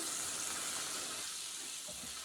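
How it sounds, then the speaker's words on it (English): Onions sautéing in a pan, a steady close sizzle with soft stirring scrapes as they are moved around to cook. "as they cook for a little bit, you're going to want to move them and stir them around the pan"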